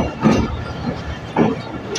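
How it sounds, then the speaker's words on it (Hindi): Shalimar Express passenger train rumbling along the rails, a close steady roar with rhythmic clattering bursts of the wheels passing over joints. "शालीमार एक्सप्रेस"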